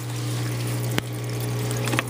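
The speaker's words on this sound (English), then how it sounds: "That is my return pump." An aquarium return pump runs beside PVC plumbing, giving a steady low hum under continuous rushing, gurgling water, with a single brief knock partway through.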